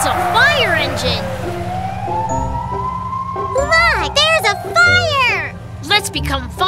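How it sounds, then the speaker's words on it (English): A fire engine siren wails in a children's cartoon, opening with a rising and falling tone, and then cartoon voices chatter lively over the music. "Wow, it's a fire engine."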